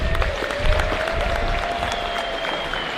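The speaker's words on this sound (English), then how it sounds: "Give another round of applause for all of our seniors." Crowd applause in a high school basketball gym honoring the seniors, a steady burst of clapping from the stands with a faint tonal squeal running underneath.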